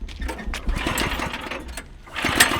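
A monster-truck-bodied go-kart engine cranks and sputters into life nearby, a rough uneven small-engine chatter that dips briefly before revving up again at the end.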